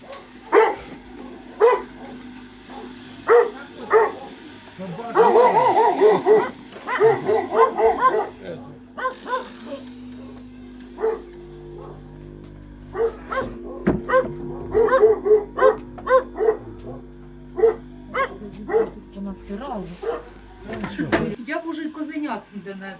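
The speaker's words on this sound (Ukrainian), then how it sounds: "Ого, у вас собака." A dog barks repeatedly in short bursts with some whimpering at a village farmyard, while people talk nearby in between the barks.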